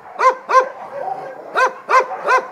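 Several dogs bark at an animal shelter in Briukhovychi, five sharp, loud barks in two bursts, close by with a quiet background between them.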